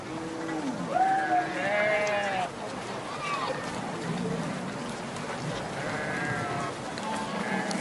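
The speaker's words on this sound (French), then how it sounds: "Voilà des troupeaux de vaches" Herds of cattle approach a desert encampment in the Sahara during the gathering for the Guérewol festival, with several drawn-out lowing and bleating animal calls over steady outdoor noise and a voice talking.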